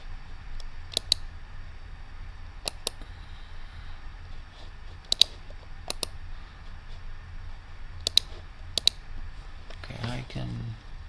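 Sharp computer mouse clicks arrive in short pairs and singles, spread across the clip over a low steady hum, with a brief muffled rustle near the end.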